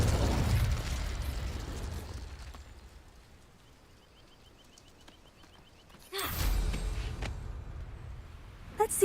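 The Confringo explosive spell cast in the Hogwarts Legacy video game, heard as a loud blast that fades into a long quiet tail before a second burst erupts and rumbles.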